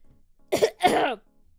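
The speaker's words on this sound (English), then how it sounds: "I needed to clear my throat" A person clears their throat in two short, rough bursts, close to the microphone, followed by quiet.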